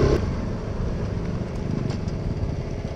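A 2014 Honda Grom with an eBay aftermarket exhaust runs nearby, a low, steady, burbling engine note that stays fairly constant for a few seconds.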